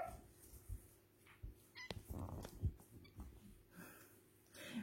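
A jealous pet dog whimpers and yips in soft, scattered bursts close by, with small rustling thumps between the whines.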